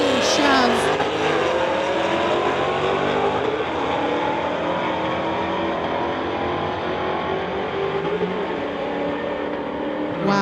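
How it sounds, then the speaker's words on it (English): Street-legal drag race between a 2022 Ford Mustang and a 2017 Chevrolet, a loud, steady engine roar sustained down the strip with a faint tire squeal at the start, heard close and without a break. "Here we have Dave Clark, 2022 Ford Mustang from Mission"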